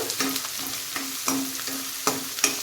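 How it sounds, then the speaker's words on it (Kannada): Chopped onion and curry leaves fry in hot oil with a close, continuous sizzle, punctuated by several sharp stirring scrapes. "ಈರುಳ್ಳಿ ಈಗ ಚೆನ್ನಾಗಿ ಎಣ್ಣೆಯಲ್ಲಿ ಫ್ರೈ ಆಗಬೇಕು"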